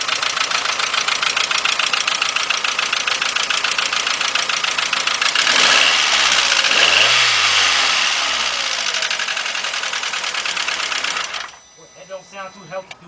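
A Volkswagen engine runs with a rapid, rattling knock, revs up briefly in the middle, then settles before cutting off near the end.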